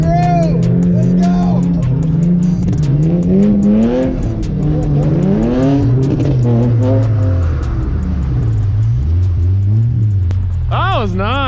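A BMW E46 or Z3 drifts in donuts on snow. The engine revs loud and close, its pitch rising and falling, with an excited voice shouting over it.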